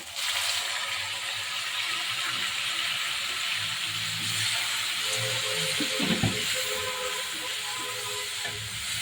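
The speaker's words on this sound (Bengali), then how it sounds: "সরষের তেলের মধ্যে পেঁয়াজটা লাল হয়ে আসছে এ পর্যায়ে আমি হলুদ লবণ মাখিয়ে রাখা চিংড়ি মাছগুলো দিয়ে দিব" Turmeric-salted prawns frying in mustard oil with browning onions, giving a steady, loud sizzling hiss that continues throughout, with faint clatter underneath.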